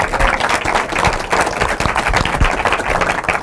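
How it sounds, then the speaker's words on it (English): Audience applause at a public banking event in DC, a dense steady wash of clapping from a group of people filling the room at moderate loudness, continuing throughout without a break. "Can we give them a round of applause?"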